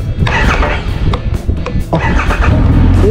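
A Triumph Rocket 3 R 2500cc motorcycle engine starts up, cranking and catching into a loud, close idle with a rough rumble.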